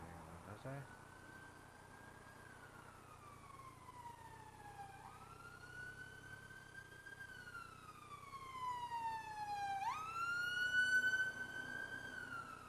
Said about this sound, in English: Oh no, ambulance!